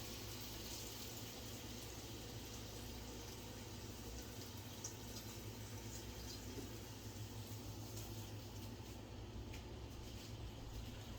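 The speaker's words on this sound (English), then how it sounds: "I'm going to pour some of this grease off." Hot grease poured off a pan of Jamaican brown stew chicken, a steady continuous liquid pour and sizzle lasting throughout at moderate level, without speech.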